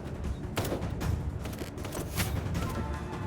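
Gunfire in the video game Kinki Spiritual Affairs Bureau, several muffled shots and thuds at fairly low level over a busy background, spaced unevenly across a few seconds.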